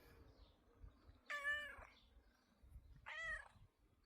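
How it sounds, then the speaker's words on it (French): A cat in a garden gives two clear meows a couple of seconds apart, close and distinct over a low background rumble. "Ah oui, c'est un chat."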